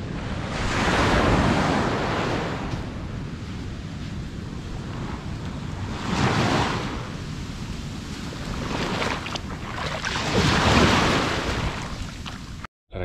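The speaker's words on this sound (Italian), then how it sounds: "Ma che bella spiaggia!" Ocean waves surge and wash in broad swells onto an Italian beach, rising and falling every few seconds, with wind buffeting the microphone; loud and close.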